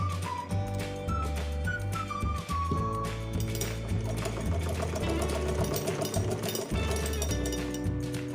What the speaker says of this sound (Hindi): अब मैं इस पे सिलाई करके दिखा रही हूँ आपको